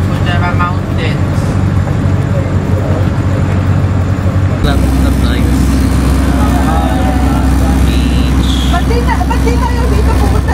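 Trucks rumble along a road near the Fujairah Mountains in the UAE, a loud continuous engine drone and roadway noise heard from inside a moving vehicle, with people chatting over it.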